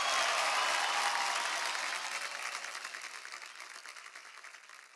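Audience applause at a song performance: loud, dense clapping from a crowd that gradually thins and fades over several seconds, with no voices on top.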